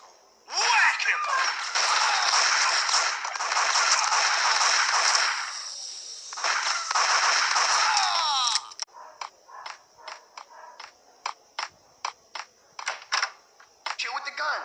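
Rapid gunfire bursts from the Max Payne Mobile video game, a dense sustained barrage for several seconds followed by a rhythmic series of sharp, evenly spaced single shots, loud and close with a short pause between.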